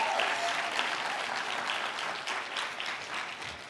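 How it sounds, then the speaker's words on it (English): An audience applauds a team at a spring 2015 hackathon final demo event, a steady, dense wash of clapping from a crowd that holds at an even level for a few seconds before easing slightly at the end. "one more round of applause for those guys"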